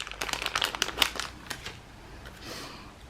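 A pack of double-sided tape is torn open, giving a quick run of close crinkling and snapping plastic packaging noises that fade into a softer rustle near the end.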